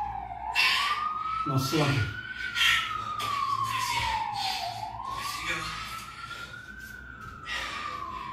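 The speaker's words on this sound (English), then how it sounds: "Can never play a video without a siren in the background." An emergency vehicle siren wails in the background, rising and falling in slow sweeps and fairly distant, while a person talks over it during an exercise session.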